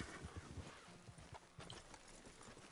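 Hooves clip-clop in a video game in a quick, faint, uneven rhythm, as a horse walks in or near water.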